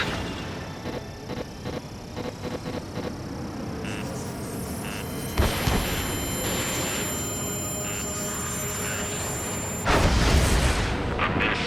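Missile hits and explosions in the jet combat game Ace Combat 7 rumble over a constant roar of jet engines, with two heavy booms standing out amid scattered sharper blasts and a steady high whine.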